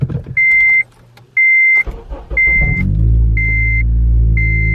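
A Honda Civic Si engine starts right after a spark plug change, following several loud electronic chimes, then settles into a steady close idle rumble.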